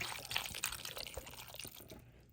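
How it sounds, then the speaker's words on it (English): Water pours into a pot holding a roast, a soft, brief trickle and splash lasting a couple of seconds, close and fairly quiet. "And you can also add some water."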